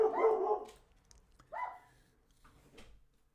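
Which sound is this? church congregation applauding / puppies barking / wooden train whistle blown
puppies barking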